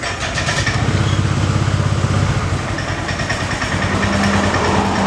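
A Honda Vario 125 scooter engine cranks on its electric starter and catches, settling into a steady, loud idle close by with no talking.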